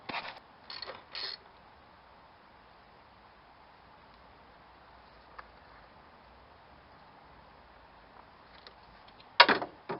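A few faint mechanical ratcheting clicks from a wrench tightening the serpentine belt tensioner bolt on a Toyota 3S-FE engine, in short bursts at the start and end with quiet in between.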